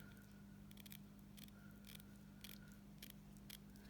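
Scissors snipping burlap ribbon at a craft table, a series of short crisp metallic cuts at a steady half-second rhythm, faint and close over a low electrical hum.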